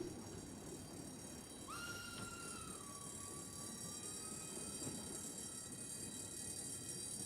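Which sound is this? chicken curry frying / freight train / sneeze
freight train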